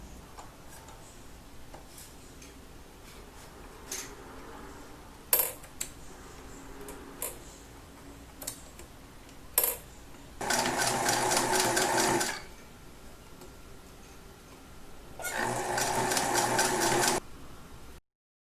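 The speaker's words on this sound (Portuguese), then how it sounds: "Nós vamos passar ponto zigue-zague aqui para que pegue dos dois lados o ponto zigue-zague para fixar o viés em torno do arame" A sewing machine runs a zigzag stitch to fix bias tape around a wire for a hat, sounding in two steady bursts of fast, close, mechanical stitching after a stretch of scattered clicks and handling taps.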